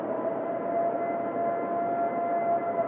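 A distant siren holds a steady, drawn-out wail for about three seconds, faint and continuous beneath a broad outdoor hiss, with no voices.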